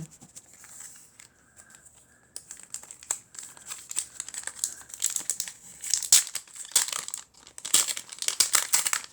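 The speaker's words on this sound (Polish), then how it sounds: "No zobaczmy, co nam te saszetki dadzą." Plastic sachets of FIFA 365 2024 football cards, packed with a Just Kick-It gazette, are torn open and handled, giving close, busy crinkling and crumpling that starts light and grows louder and denser in bursts toward the end.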